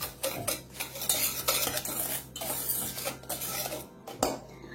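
Cake batter of sugar and flour is mixed in a bowl, with repeated scraping strokes and clinks of a utensil against the bowl in an irregular rhythm, close up.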